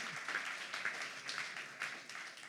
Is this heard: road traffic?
no